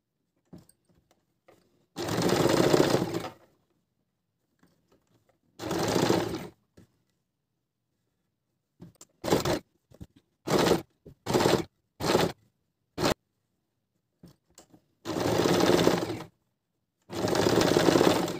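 A sewing machine stitches the neckline of a kurti in loud, close bursts: long runs of whirring stitching, then a series of short quick runs and pauses, with near silence in between. No one talks.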